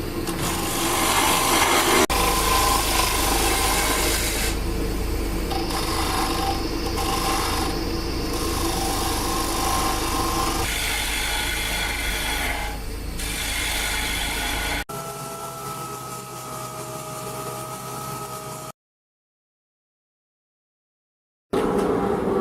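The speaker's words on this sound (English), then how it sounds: "So Carl, as you're sanding this" Steady mechanical whirring of a spinning lathe with a continuous abrasive rasp of sandpaper against wood, dropping off briefly near the end.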